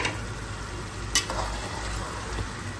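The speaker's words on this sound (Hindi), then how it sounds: "पालक को भूनते हुए मुझे 10 मिनट हो चुके हैं" Spinach and partly cooked fried potatoes cook together in a pan, a steady low sizzle with scraping stirs and one sharp clatter of a utensil partway through, no voices.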